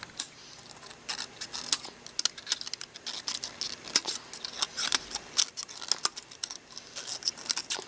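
Scissors snipping through a plastic water bottle to cut medium-sized flower petals, a quick irregular series of sharp close clicks and crunches, heard alone without talk.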